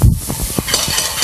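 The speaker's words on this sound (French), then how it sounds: "J'ajoute maintenant mon basilic haché et je remue vivement." A spoon briskly stirs a vegetable compote with chopped basil in a saucepan, short scraping strokes over a faint sizzle, close and fairly loud for just over a second.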